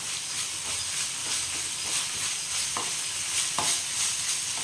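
Hand-ground ginger garlic paste sautéed in a pan for prawn gravy, with a steady soft sizzle under repeated scraping stirs and a couple of sharper utensil knocks.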